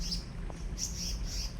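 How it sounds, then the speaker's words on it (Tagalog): A small bird near its nest gives several short high chirps in quick succession, fairly close and clear over a quiet outdoor background with no talk. "Yan siguro yung kanyang inahin, yung humuhuni."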